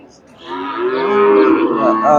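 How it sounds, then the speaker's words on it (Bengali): A Friesian dairy cow at a busy cattle market lets out one long, loud moo close by. The call rises and holds for over a second with little else audible. "সুন্দর একটা গাভী ফ্রিজিয়ান ফ্রিজিয়ান গাভী"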